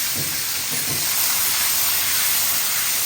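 Garlic and chili paste hits a hot pan and sizzles with a loud, steady, close hiss that fills the whole stretch without pause.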